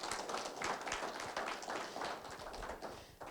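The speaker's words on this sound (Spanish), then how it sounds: "Denle una ofrenda de palmas." Church congregation clapping in a sustained round of applause, dense and steady, filling the room for a few seconds before tapering slightly at the end.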